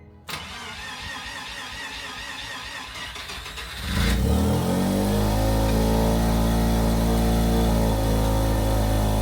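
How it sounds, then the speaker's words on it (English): A rotary engine car cranks over with a rapid starter chatter, then fires and settles into a loud, steady running drone close by. "Right now I'm gonna drop the car and start it and see if anything leaks."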